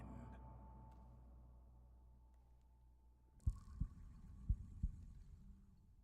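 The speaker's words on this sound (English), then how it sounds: "Heartbeats and shackles?" Low, throbbing heartbeat pulses from a story-driven RPG run under a dark ambient hum, then sharp metallic clanks of rattling shackles strike four times in the second half.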